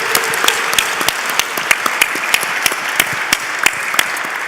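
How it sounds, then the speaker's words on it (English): Audience applause at an awards ceremony honoring winners, a steady dense wash of clapping with sharp individual claps popping out, loud and sustained throughout. "let's give them a last applause."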